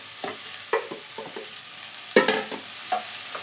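Green gram for Kerala-style payar thoran is stirred in a hot pan, with repeated scraping strokes and clatters over a low sizzle, one louder scrape partway through.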